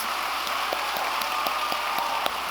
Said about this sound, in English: Let's give one more heartfelt round of applause.